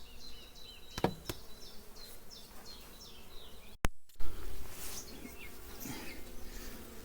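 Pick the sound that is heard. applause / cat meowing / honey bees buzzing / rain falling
honey bees buzzing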